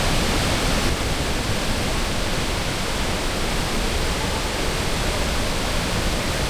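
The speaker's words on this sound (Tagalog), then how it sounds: "Ayan na yung falls." Pagsanjan Falls in Laguna, Philippines, roars as a steady, dense wash of falling water, loud and unbroken throughout with no voices.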